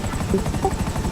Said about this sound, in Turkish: Harbi diyorum bu helikopter.